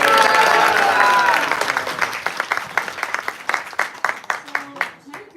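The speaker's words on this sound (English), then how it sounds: "Can we get a round of applause for our announcers?" Applause from a temple audience at a Sunday Hare Krishna feast program for the announcers, starting as a full crowd burst with a voice over it, then thinning into scattered individual claps that fade out.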